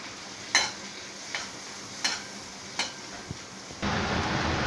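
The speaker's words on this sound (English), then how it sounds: "this is the mixed vegetables, beans, carrot and capsicum, which I am going to mix it" Beans, carrot and capsicum stirred in melted butter in a pan: several sharp scraping stirs at a steady pace over a soft sizzle, ending in a louder burst of frying.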